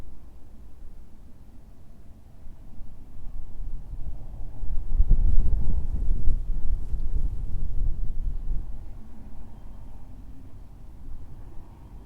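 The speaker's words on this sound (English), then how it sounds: "It's rather breezy today, to say the least" Wind gusting across an open field during ploughing with a John Deere 8RX 410 tractor, Holmer TerraDos 5 and chaser, a steady low rumble swelling into a stronger buffeting gust midway, then easing off.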